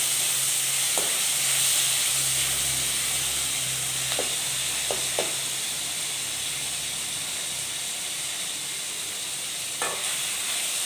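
Masala sautéing in a pan for a chicken and mutton dish, with a continuous close sizzle and hiss of frying, and a few sharp scrapes and knocks as it is stirred.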